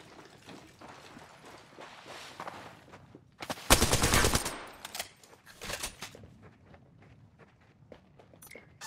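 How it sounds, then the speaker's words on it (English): Gunfire in Apex Legends: a loud, dense automatic burst lasting about a second, then a shorter volley and scattered sharper shots, with footsteps and game ambience between them. "Shots fired at me."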